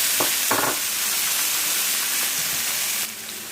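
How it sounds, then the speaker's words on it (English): Chopped onions hit a hot pan for fried rice, setting off a loud, constant sizzle and hiss with a few brief stirring scrapes, then easing slightly near the end. "Then I'll add some chopped up onions."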